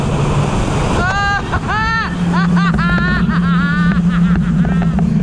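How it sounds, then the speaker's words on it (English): A 2020 Harley-Davidson LiveWire electric motorcycle accelerates on the road, its motor whine rising in repeated climbing pitches through heavy rushing wind noise as the throttle is twisted. "gets to a bit of a scream when you twist the throttle"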